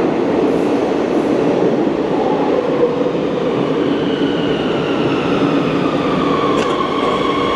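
A train in Spain rumbles continuously with a dense, steady roar, heard from close by or on board, with no voices.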